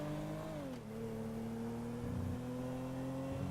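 A car engine in the GTA 5 video game revs and accelerates, its steady harmonic drone shifting down in pitch after a gear change and then holding, close and continuous with no talk.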